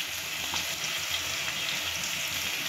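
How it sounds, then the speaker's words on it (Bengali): Ground spices sizzle steadily in hot oil in a pan while prawn malai curry is cooked, a dense, even frying hiss up close with no talking. "দিয়ে এবার মশলাগুলোকে একসাথে সব কষাবো"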